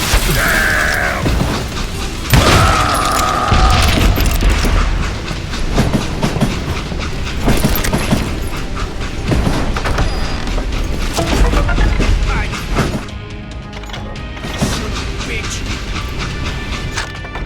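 A train runs along rails in a video game, a loud, continuous rumble with rhythmic clickety-clack and a few heavy thuds, steady throughout with a slight drop near the end.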